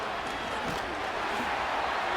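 A stadium crowd in the video game Madden 25 roars during a Chiefs vs Ravens game after a Chiefs sack. The steady, loud crowd noise continues throughout, with voice commentary underneath.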